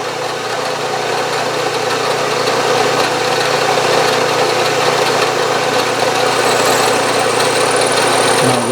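A metal lathe cuts a groove for a horizontal steam engine build, giving a steady, continuous machining hum and whir at close range with no talking.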